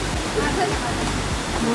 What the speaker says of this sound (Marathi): थोडा छोटासा धबधबा आहे